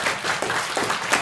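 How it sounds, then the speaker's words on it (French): Congregation clapping during a Haitian church service, a brief burst of steady, moderately loud applause with rhythmic peaks and no voices. "On applaudit cet esprit, mon Dieu."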